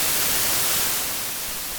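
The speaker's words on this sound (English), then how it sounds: "So this is white noise," Steady hiss of white noise from a VCV Rack software synthesizer, broad and even like static, slightly fading in level toward the end with no other sounds.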